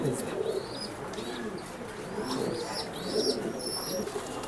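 Foreign racer pigeon chicks and adult pigeons coo in a low, steady murmur, with a few higher chirps and whistles from other birds scattered above; the cooing runs continuously at moderate volume, fairly close.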